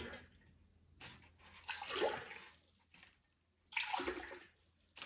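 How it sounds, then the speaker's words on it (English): Water poured from one cup into another, two short splashing pours separated by a pause, quiet and close in an indoor room. "Look, I have water. I empty it into another cup like this."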